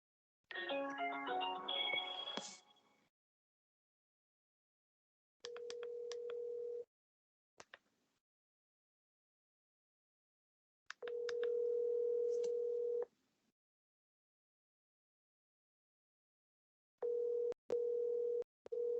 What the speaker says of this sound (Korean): 한 번만 전화를 해 볼게요